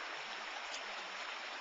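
Creek water in Capitol Reef National Park flows in a steady, broad rush, a soft continuous wash with no voices.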